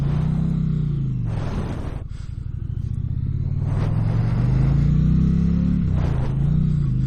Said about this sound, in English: Great sounding motorcycle too, just straight out of the crate. A real nice low throaty sound on it.